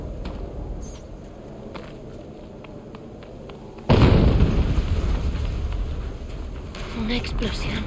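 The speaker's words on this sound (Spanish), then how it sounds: "Una explosión." In Horizon Zero Dawn Remastered, a heavy in-game explosion booms abruptly partway through, its deep rumble lingering over quieter game ambience and scattered footstep-like taps.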